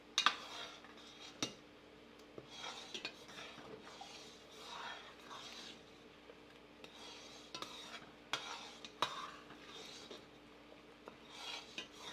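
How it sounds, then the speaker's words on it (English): Peach bourbon jam boiling in a pot and stirred constantly, soft repeated spoon scrapes and rubs against the pot with occasional clinks over a low bubbling hiss, fairly quiet. "You want to constantly be stirring so you don't scorch the jam."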